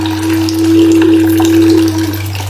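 Tap water runs steadily and loudly into a bathtub in Lagos, a continuous close rushing hiss with a constant hum beneath it and no talking.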